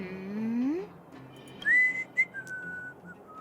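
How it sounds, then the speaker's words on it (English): A male character in the video game Honkai: Star Rail whistles a tune of sliding, sustained notes, rising upward, then holding steady pitches, clear and fairly close against a quiet game background. "Is he really whistling right now?"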